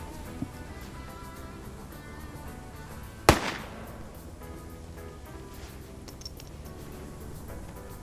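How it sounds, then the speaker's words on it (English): A single sharp grenade blast at mid-range in the Arma military shooter, a sudden crack with a brief rumbling tail, over low steady ambient hiss with no talk. "Another grenade bounced off"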